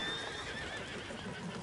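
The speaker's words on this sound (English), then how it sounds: "Oh, shit, the horses! Damn horses!" Horses whinny and neigh in the Red Dead Redemption 2 video game, a continuous, fairly dense wash of game sound with no speech over it.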